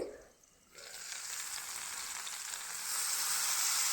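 Vegetables for Bengali shukto frying and being stirred in a pan, a steady broadband sizzle that swells after a brief quieter moment near the start and grows louder toward the end, with no talking.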